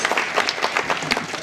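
Audience applause at a congress on enigmas and mysteries in Capilla del Monte, welcoming speaker Ricardo González: dense, steady clapping from a large crowd, fairly close and continuous through the short stretch.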